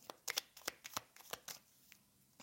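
Tarot cards are shuffled by hand in a rapid series of crisp riffling flicks and slaps, close and fairly quiet, ending with a louder thump as the deck is set down.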